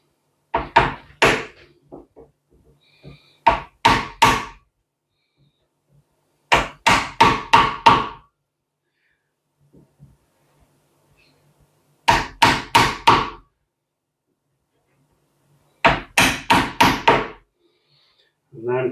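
A not-so-sharp chisel is tapped along the edge of a wooden door in quick clusters of four to six sharp knocks, close and crisp, with silent pauses between groups.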